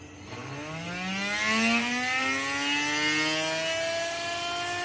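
A 3D-printed plastic disc spins up to 24,000 RPM, a rising whine with harmonic tones sweeping steadily upward, then holding near top speed over a soft motor whir.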